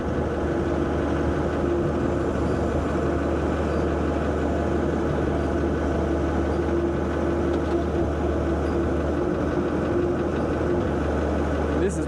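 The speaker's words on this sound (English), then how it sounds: "Got Coleman on the skid steer loading us up here." Skid steer with a high dump bucket loading fertilizer into a truck on a farm field in spring, its engine droning steadily and close throughout with a constant low rumble and faint mechanical rattle.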